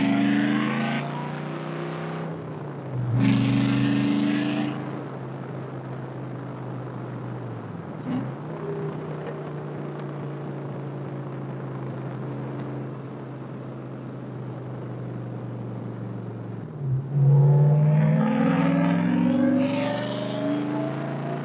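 A Factory 5 Cobra with a 5-speed gearbox drives along, its engine rumbling loudly with bursts of revving at the start and again near the end and a steadier cruising drone between.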